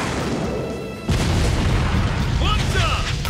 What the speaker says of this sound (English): Fire stuff! Two flame bombs!